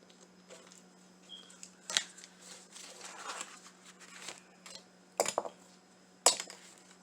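Snipping and scraping of scissors cutting out a craft piece for a farmhouse-style spring decor project, with scattered soft clicks and a few sharper snaps against a faint steady hum, close and fairly quiet.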